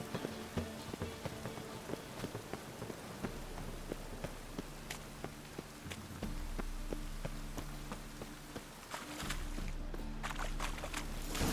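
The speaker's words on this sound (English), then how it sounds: "It just rains and rains." Steady rain falls in The Witcher 3: Wild Hunt, a continuous patter on surfaces with scattered footsteps and game ambience, no talk.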